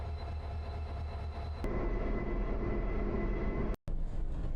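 A slow reopened Gyooe line train running near Uijeongbu Station, a steady low rumble and hum of the railcar that continues throughout with a brief dropout near the end.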